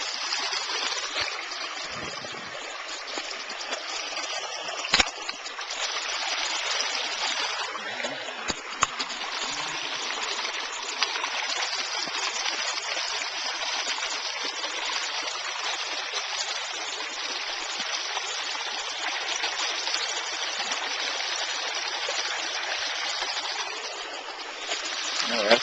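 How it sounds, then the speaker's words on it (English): A brook swollen by rain rushes steadily across a trail nearby, a continuous hiss of running water with occasional splashes, no other sounds standing out. "There's a brook across the trail. And after yesterday's rain, it's running quite heavily with water"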